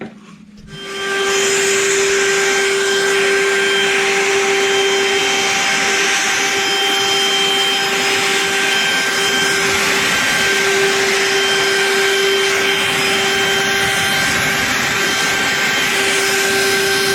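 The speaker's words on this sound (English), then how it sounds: "it converts into a vacuum, a shop vac" A loud, steady motor whine with a high-pitched tonal hum, running continuously after a brief quiet start, from a YAWV cordless leaf blower for DeWalt 20V Max batteries converted into a shop vacuum.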